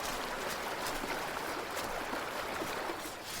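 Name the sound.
flowing river water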